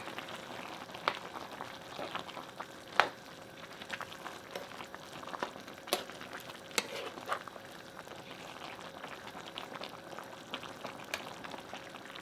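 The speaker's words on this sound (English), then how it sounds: "So this has been cooking up for 20 minutes now. We're just gonna stir this." Kimchi jjigae stew bubbling steadily in a pot after twenty minutes of cooking, a constant simmering fizz with scattered pops and occasional clacks of a utensil stirring, close and with no voices.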